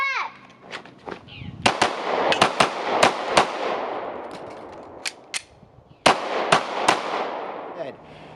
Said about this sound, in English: 2 shots to the body, 2 shots to the body, 2 shots to the body, reload, 1 shot to the head